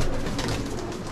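Pigeons cooing loudly and close in a short burst, with a dense, muffled flutter of calls from domestic desi pigeons kept for flying.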